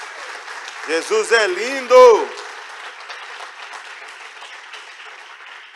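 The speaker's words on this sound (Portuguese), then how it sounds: "Só quem está feliz, dá uma forte salva de palmas ao Senhor aí." A church congregation at a New Year's first service claps loudly and steadily. A voice speaks briefly just before the applause starts, and the clapping carries on as a dense wash to the end.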